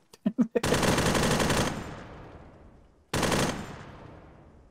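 Gunfire in the video game Arma 3: a few quick single shots give way to a long, loud burst of automatic suppressive fire that rings out and fades, then a second sustained burst, with no voices over it.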